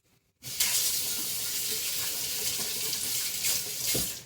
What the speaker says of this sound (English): I'm gonna rinse my hands off here a second.